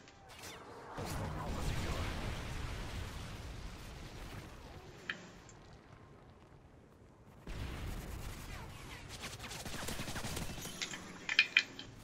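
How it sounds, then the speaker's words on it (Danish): Gunfire in the video game Call of Duty MW3: bursts of shooting and rumbling blasts come in two dense stretches split by a quieter lull, with sharp cracks near the end under the ongoing battle noise. "Du blev skudt på."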